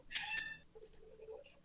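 A loud bird gives a brief, sharp harmonic squawk in two quick pulses, followed by faint rustling and quiet background noise, with no speech.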